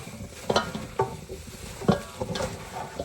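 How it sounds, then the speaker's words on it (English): Rib seasoning is stirred together in a bowl, making soft gritty scraping and tapping strokes at an uneven rhythm, close and fairly quiet. "Mix all those flavors up in there."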